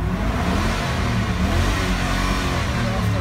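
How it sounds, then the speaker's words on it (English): A stock 2004 Chevy LQ4 6.0 LS V8 engine with 191K miles bouncing off its rev limiter, a loud, steady, close high-rpm roar that holds throughout. "Off the rev limiter."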